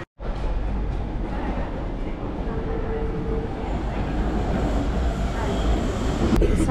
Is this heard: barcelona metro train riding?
yes